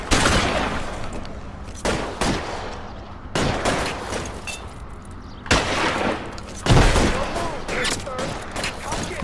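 Shotgun blasts boom in L.A. Noire during a gunfight, several loud separate shots spaced a second or two apart, each with a ringing tail, amid other gunfire.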